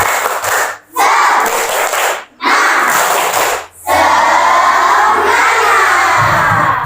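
A class of children shouts a loud group cheer in rhythmic bursts with brief pauses between, voices and clapping blending into a dense, close crowd roar.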